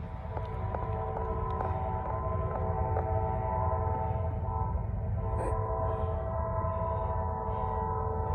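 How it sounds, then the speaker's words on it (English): A Norfolk Southern freight train rumbles steadily nearby while its horn blows several long, sustained blasts, with a brief pause before a final extended blast. "First train of the night."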